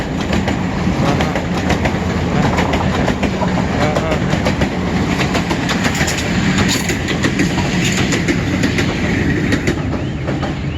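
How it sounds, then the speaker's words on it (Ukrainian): Train rolling past a railway crossing with the barrier lowered, a loud steady rumble with rhythmic clickety-clack of wheels and faint squealing, close by and continuous throughout. "О, їде поїзд, дивись який."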